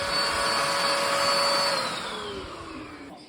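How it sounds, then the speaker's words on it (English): An upholstery extractor cleans the interior of a Pontiac Vibe, a loud, close, steady vacuum-like whine that drops in pitch and fades slightly toward the end. "been working on the roof with the extractor"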